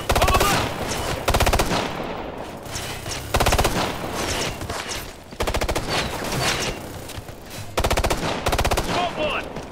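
Sustained machine gun fire in the video game Ghost Recon Future Soldier, loud repeated bursts of rapid automatic shots with short gaps between them, dense and close throughout.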